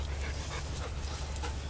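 German shepherd dog panting close by, a quick steady rhythm of breathy huffs over a low background hum.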